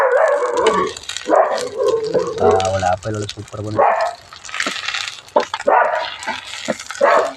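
A dog barks several times in a quick cluster, close and fairly loud, mixed in with ongoing talk from people nearby.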